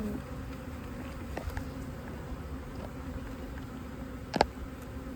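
Honeybees hum in a low, steady drone at an open hive during inspection, fairly quiet and close, with a few faint knocks and one sharp clink partway through.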